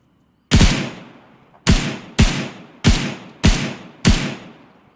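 Six loud gunshots from the video game Arma Exile fire at irregular intervals, each a sharp close crack followed by a rolling, echoing decay, with no talk.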